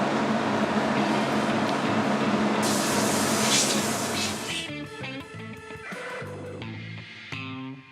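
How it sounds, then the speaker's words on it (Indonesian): Spray gun hissing loudly as it coats a guitar body in salmon pink paint, a steady airy blast for several seconds that stops abruptly, leaving workshop clatter and faint background sounds. "Yang sedang disemprot ini warna salmon pink."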